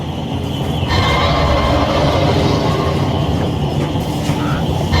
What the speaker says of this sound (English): Train slowing.